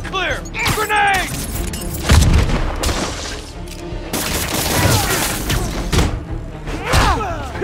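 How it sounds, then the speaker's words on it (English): A grenade blows up in the Marvel's Spider-Man video game, giving a heavy boom and thud under loud game action, with a second muffled blast following. Voices talk throughout. "Get clear! Grenade!"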